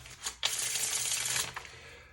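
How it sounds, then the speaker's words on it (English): A deck of playing cards is riffled close up, one quick dense fluttering burst lasting about a second, followed by a brief tap. "So let's shuffle these cards."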